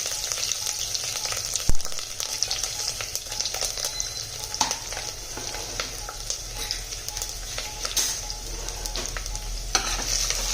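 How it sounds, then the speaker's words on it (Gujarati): Cumin, asafoetida, curry leaves, chilli and garlic sizzle in hot oil for a Kathiyawadi dish, a steady close frying hiss with occasional crackles and pops throughout. "રાઈ ફૂટે એટલે જીરું, હિંગ, મીઠો લીમડો, મરચી અને લસણ એડ કરી દેવાનું છે."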